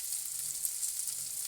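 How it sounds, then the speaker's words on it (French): Bacon lardons and onions fry in a pan, a steady close hiss and crackle of fat with fine popping, continuous and unbroken with no voices. "les lardons et les oignons cuisent"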